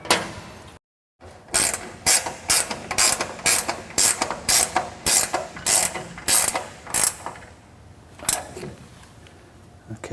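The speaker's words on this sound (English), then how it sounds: "I'm going to go ahead and tighten down the front fence rail." Ratchet tightening the front fence rail bolts on a Laguna F1 Fusion tablesaw: a loud, close run of about fifteen sharp clicking strokes in a steady rhythm after a brief pause, slowing near the end.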